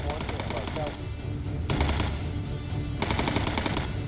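A bomber's tail gun fires in rapid, loud automatic bursts during a WWII air-combat video game mission over the Bremen tank factory, the clattering volleys coming in repeated waves with a steady background drone.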